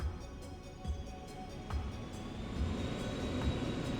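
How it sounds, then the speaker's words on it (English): Trains pass in the video game Xenosaga Episode III, a low rolling rumble with faint rhythmic clicks that swells slightly toward the end, moderately quiet. "Ooh, trains."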